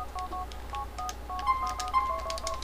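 Mobile phone keypad beeps in the video game GTA IV, a quick run of about a dozen short dialing tones in uneven rhythm over a faint low background, no voices.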